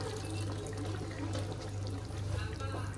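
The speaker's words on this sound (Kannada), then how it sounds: "ಇದಕ್ಕೆ ಇವಾಗ ನೀರು ಹಾಕೊಳ್ಳೋಣ" Water pours steadily into a pot of country chicken curry, a continuous close splashing rush with no pauses.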